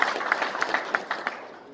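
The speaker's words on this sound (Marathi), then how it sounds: "त्यांच्याबद्दल टाळ्या वाजवून अभिनंदन." A small audience at a science demonstration gives a short burst of scattered clapping for two volunteers, fading out within a couple of seconds.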